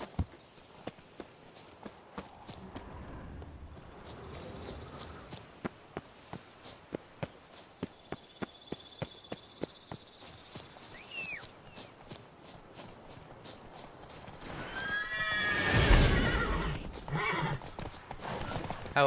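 Hooves clip-clop steadily in the foreground over a faint insect chirr in The Witcher 3: Blood and Wine, then a horse gives a loud whinny near the end.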